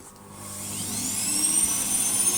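A Hoover Sonix bagless cylinder vacuum cleaner running on its minimum setting gives a steady, fairly close whine that rises slightly as the motor settles, with no talking.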